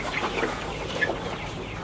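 Hens clucking inside a lit poultry shed, a dense overlapping chorus of soft clucks and occasional sharper calls over a constant background hum, moderately loud with no talk.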